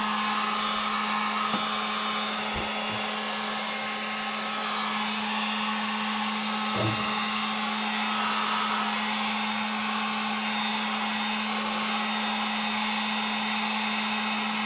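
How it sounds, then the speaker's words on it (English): A heat gun blows steadily on a small black part during work on a 2017 Ford Focus RS, with a constant loud whine and rushing air throughout and a few faint knocks, no voices. "We're gonna heat it up with the heat gun."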